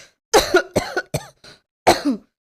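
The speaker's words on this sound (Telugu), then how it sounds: "ఈ మధ్య నాకు కూడా దగ్గు వస్తుంది." An elderly person gives a short run of harsh, close coughs, four quick bursts then a final pair after a pause, with silence between them.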